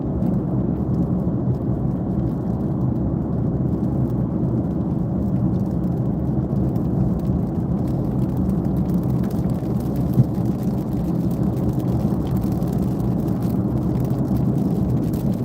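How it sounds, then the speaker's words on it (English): A light rain shower heard from inside a moving car, a steady, dense low rumble of road and engine noise with a faint hiss of rain and tyre spray over it, continuous and even without voices. "It's only a light shower, people."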